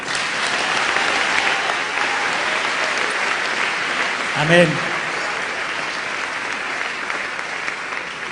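A congregation applauds during a French-language Sunday church service, with steady, dense clapping from a crowd throughout and a voice briefly calling out over it.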